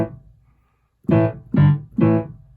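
A piano plays three short, punchy repeated chords from a song's intro after a brief pause, each one struck clearly and left to decay, close and alone.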